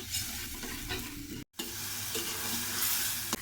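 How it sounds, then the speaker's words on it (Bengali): Chili spice paste being fried and stirred in a pan for a mango prawn curry: a dense, continuous sizzle with scraping stirs, a brief cut near the middle, then more frying. "মরিচ মশলাটুকু আর একটু ভালো করে কষিয়ে নিল"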